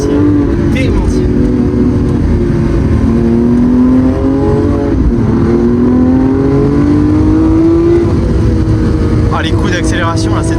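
Lamborghini Aventador SVJ engine revving and accelerating, its loud tone rising and falling in pitch through repeated pulls, close and continuous, with someone talking over it near the end.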